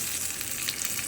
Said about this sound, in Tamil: ஒரு தாளிப்பு போட்டு விட்டுறலாம்